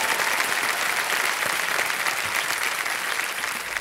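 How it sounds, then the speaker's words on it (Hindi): Loud, dense studio audience applause on the KBC quiz show stage, continuous and even throughout with no pauses. "एक बार फिर तालियां बज जाएं इनके लिए।"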